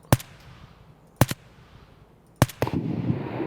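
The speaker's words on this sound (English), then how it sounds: "So somebody's still shooting over there." Gunfire in Escape from Tarkov, a distant sniper scav shooting: three sharp rifle shots spaced about a second apart, each with a short echoing tail, followed by scattered quieter cracks.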